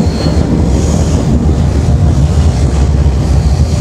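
A double freight train rolls past in northern Russia, giving a loud, steady low rumble and rattle of railcars mixed with heavy wind buffeting on the microphone.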